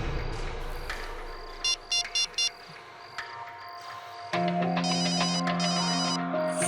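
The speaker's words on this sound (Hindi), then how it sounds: "सर किसी का फोन बज रहा है सर।" A mobile phone ringing nearby in a city setting, with repeated short electronic chirps in bursts followed by a louder, sustained ringtone melody, no speech over it.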